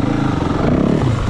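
A 2024 Yamaha WR450F dirt bike engine runs loud and close on a pit bike track, a dense, rough, continuous roar under throttle, heard alone without voices.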